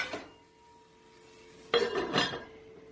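A lid set onto a pot holding a roast with carrots and fresh herbs, two quick metallic clinks close by with a brief scrape after a quiet pause.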